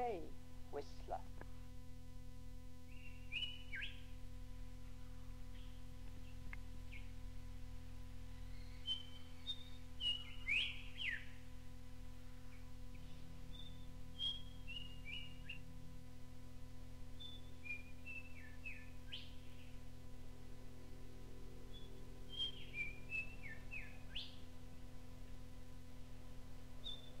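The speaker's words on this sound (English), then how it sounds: "Whistler." Several clear whistled calls of a whistler bird in North Queensland tropical rainforest, rising and falling notes repeated at intervals against a steady low hum and faint background.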